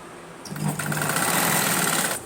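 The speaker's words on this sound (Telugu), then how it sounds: "మొత్తం పొడవునా కూడా అదే విధంగా స్టిచ్ చేసుకొచ్చేసుకోవాలండి." A sewing machine runs steadily, stitching silk pattu lehenga fabric, starting after a brief pause and whirring loud and close for about two seconds before stopping.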